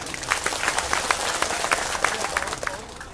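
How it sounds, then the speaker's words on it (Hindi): Audience at a ghazal recital in Hailakandi, Assam, breaking into enthusiastic applause, a dense burst of many hands clapping with a few voices mixed in, loud and close for the whole stretch. "आप ताली बजा सकते हैं"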